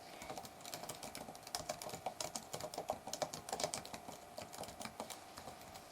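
Steady typing on a computer keyboard while entering code, a dense run of close, moderately loud key clicks with no talking.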